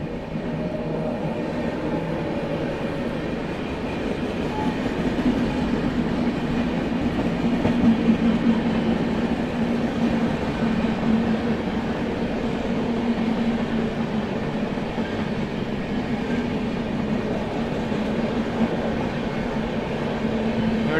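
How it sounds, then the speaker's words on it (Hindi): The New Delhi–Gaya Mahabodhi Express rolls past a crossing with a continuous rumble and rhythmic clickety-clack of wagons, steady and fairly close for a long stretch. "लो आ ही गई, न्यू दिल्ली गया महाबोधि एक्सप्रेस आ रही है।"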